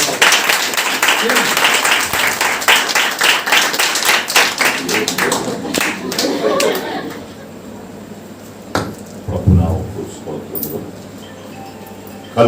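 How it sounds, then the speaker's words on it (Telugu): A church congregation at a family retreat applauds with rapid, dense clapping that is loud for about seven seconds. It then fades to a quiet room with a few scattered sounds. "అందరూ చప్పట్లు"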